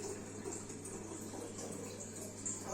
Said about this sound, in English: Allow me to fill the water so that you can see how magnificent it looks.